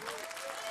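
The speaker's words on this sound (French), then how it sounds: "Encore une belle leçon d'humanité qu'on applaudit très fort." An audience applauds loudly at a French televised concert, a steady dense wash of clapping with no gaps through the brief moment.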